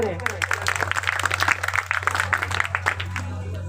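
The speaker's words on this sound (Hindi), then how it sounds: "सभी बराती एवं शरारती से मेरा निवेदन है कि इनका भी तालियों से स्वागत करें।" Wedding guests clap to welcome a relative at a marriage ceremony, a loose patter of hands ringing out near and fairly loud over a steady low hum, with voices mixed in.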